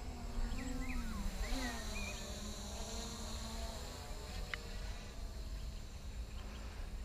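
MJX Bugs 3 quadcopter drone in flight, its small rotors giving a steady, high-pitched insect-like buzz with shifting whine as it maneuvers through turns, continuous and fairly close throughout.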